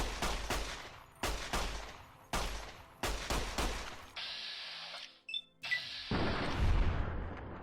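Gunfire in Fallout: New Vegas: several bursts of sharp, loud shots in quick clusters over the first half, followed by metallic clicks and reload-like clatter and a rumbling low boom near the end, with no talking.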